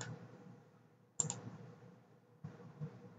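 Computer mouse clicks while setting up Windows Server group policy, two or three crisp close clicks separated by quiet pauses with faint room hum.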